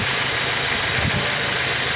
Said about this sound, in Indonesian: bunyi klerek-klerek, tapi ketika pedal kopling diinjak bunyinya itu hilang.